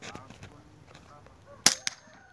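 A sharp, loud gunshot cracks once at a shooting range, followed shortly by a softer second report, against faint outdoor murmur.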